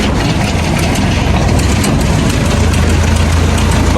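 A Massey Ferguson 260 tractor engine runs steadily at close range, a loud, dense, continuous diesel rumble with no break.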